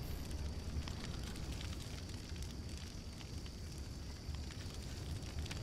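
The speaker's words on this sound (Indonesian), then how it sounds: "Itu yang api lagi ya" A campfire burns in the survival video game Green Hell, giving a steady, dense crackle and roar that stays even and fairly quiet for the whole stretch, with no voices.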